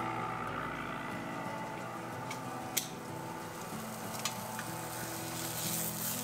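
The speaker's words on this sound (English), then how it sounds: "Okay, now I gotta flip that steak over here." A New York steak sizzles steadily in a pan as it is flipped, the fat crackling in a constant hiss with a couple of sharp clicks from the utensils, all close and without talk.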